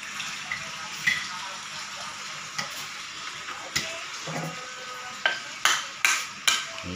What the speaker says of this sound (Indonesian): yang belum masak dipanaskan dulu, direbus dulu